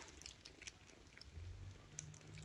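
Quiet, close purring from kittens, a soft low rumble with faint clicks and small chewing sounds.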